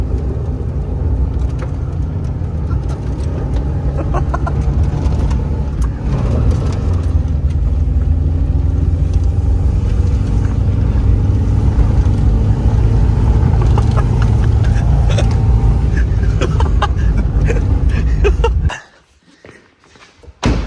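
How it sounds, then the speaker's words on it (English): A VT Clubsport car doing a rally launch, its engine holding a loud, steady, rough roar close by for about eighteen seconds before cutting off abruptly into near silence. "Should we do the old rally launch?"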